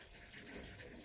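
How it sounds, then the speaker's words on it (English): Water from cooked black rice drains through a t-shirt in a faint, brief trickle and splash, close by and steady, with no voices over it. "drain the rice over the t-shirt"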